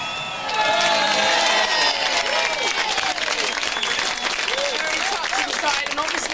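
A crowd applauds and cheers loudly, with whoops and excited voices mixed into sustained clapping that carries on throughout.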